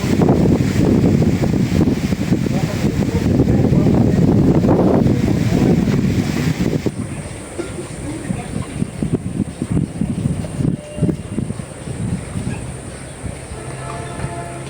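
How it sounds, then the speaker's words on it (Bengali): Strong wind blows in loud, continuous gusts across an open papaya garden, buffeting the microphone heavily at first and then easing into a softer, steadier rush. "প্রচুর বাতাস ছাড়ছে।"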